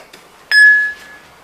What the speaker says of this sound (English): Beeping buttons.